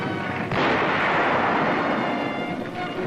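World War II artillery fire in Italy in 1944 roars as a dense, sustained rumbling blast that opens with a sharp onset and rolls on loudly without a break for about three seconds, with no voices.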